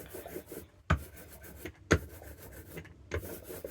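An inking roller rolling over a printmaking plate with too much ink gives three separate raspy, sticky rubbing passes, close and fairly quiet, with quiet gaps between them.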